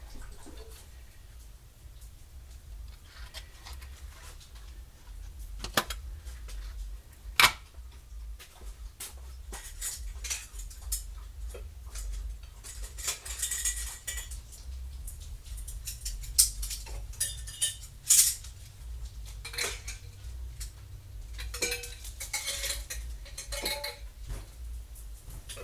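Canning lids and metal utensils are handled in a kitchen, scattered clinks and sharp metallic taps spread over a quiet background with a low steady hum, some clusters of rattling in between.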